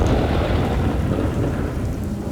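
Steady heavy rain pours with rolling thunder rumbling underneath, a continuous loud wash of downpour without any voices.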